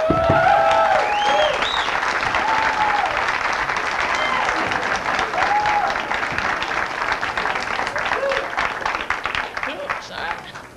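A comedy club audience applauds loudly, a dense wash of clapping with a few scattered whoops that gradually tapers off, while someone speaks over it on the microphone.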